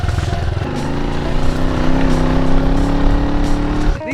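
Small dirt bike engine revving hard, a buzzy rising and falling note that climbs steadily for a few seconds before cutting off.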